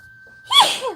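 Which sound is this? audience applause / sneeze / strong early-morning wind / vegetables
sneeze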